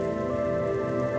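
Steady rain falls on a surface, a continuous even patter held alone at a constant level, with a low sustained tonal hum running beneath it.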